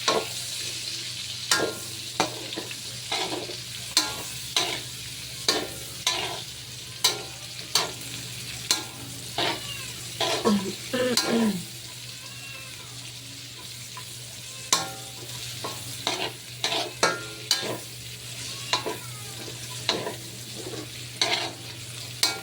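Garlic and onion sauté in a pan for pancit, a steady soft sizzle broken by repeated scraping stirs of a utensil against the pan, close and clear, with no voices over it.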